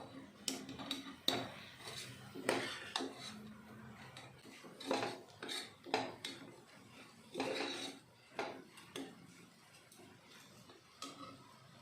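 A spoon stirs spice powder, peas and brinjal frying in oil in a cooker, giving repeated close metallic scrapes and clinks in an irregular rhythm, with no clear sizzle and no talking.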